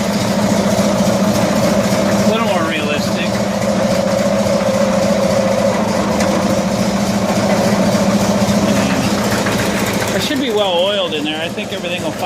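A 1974 Cushman Truckster's engine runs steadily in first gear with a constant mechanical hum. A person talks over it at times.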